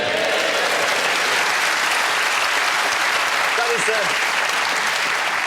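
Studio audience applause on a BBC radio panel game, a steady, full burst of clapping lasting several seconds, with a brief voice faintly underneath near the end.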